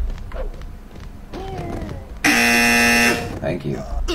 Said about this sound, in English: Come on, buzzer.